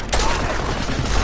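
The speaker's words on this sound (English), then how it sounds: "I make example of them by shooting them in the face, like this" Gunfire in the video game Deus Ex: Mankind Divided, a loud, dense burst of shots rattling continuously throughout with booming low end and no pause.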